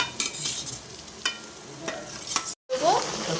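Onion and capsicum stir-fried with soy, tomato and red chilli sauces for chilli chicken sizzle steadily in a pan, with a few scraping stirs and a brief break in the sound.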